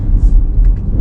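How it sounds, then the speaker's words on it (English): Deep, loud engine rumble from a 2021 Audi SQ5 burbling on a downshift, a continuous low throb heard close throughout. "That downshift was amazing"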